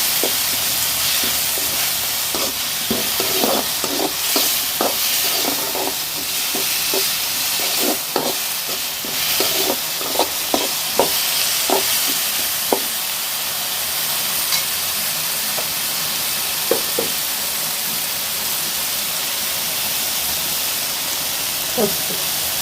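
Ginger garlic paste frying in a pan for a country chicken soup, giving a steady loud sizzle and hiss with scattered stirring scrapes and clatters throughout.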